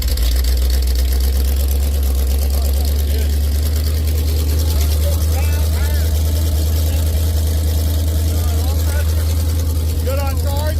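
A big-block 440 engine in a Cushman build runs after its first start, a loud, steady, low rumbling drone that holds without a break throughout.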